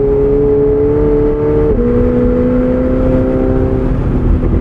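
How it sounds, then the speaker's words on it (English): A 2024 McLaren 750S engine hums steadily up close with short throttle blips that lift its tone, one sharp shift in pitch midway, and no talking over it. "But boy, is it exciting and fun to just give it those little bursts of throttle."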